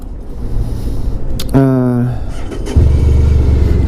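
A 1994 Honda ST1100 motorcycle engine rumbles at idle, briefly under a voice, then steps up to a louder, deeper throb near the end.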